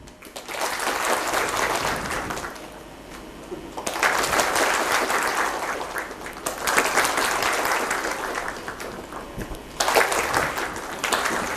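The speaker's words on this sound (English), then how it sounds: "if I raise my hand, you have to clap louder, okay?" An audience at WordCamp Mumbai 2019 claps in waves, applause swelling louder, dropping briefly and rising again in a clap-volume check, with little talk.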